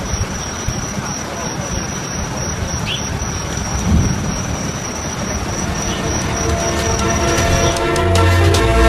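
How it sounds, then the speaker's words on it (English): Heavy typhoon rain roars steadily with gusting wind during landfall in Taiwan, a broad continuous wash of noise that swells louder toward the end, with a faint high whine above. "It's just crazy wind and rain from Typhoon Sodalor as it was making direct landfall in Taiwan."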